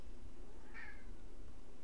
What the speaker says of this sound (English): My cat says hi.